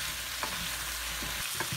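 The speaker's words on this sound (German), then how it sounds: "Wir brutzeln jetzt hier schon seit einer Minute circa" Vegetables sweat in a pot for pumpkin cream soup, giving a steady, soft, close sizzle with a few faint stirring scrapes.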